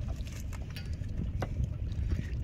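Water of the Kushabhadra river near Puri, with windy outdoor rumble and a boat nearby, a steady low wash with faint splashes and no talk.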